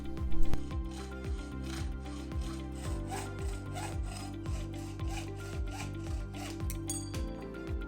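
A hacksaw cuts through a rough metal part clamped in a vise, giving steady back-and-forth rasping strokes in an even rhythm, close and clear with no talking.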